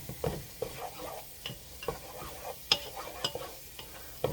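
Tomato soup sauce bubbling in a pot, with soft sizzling and scattered stirring scrapes and light clinks at irregular intervals, close and fairly quiet.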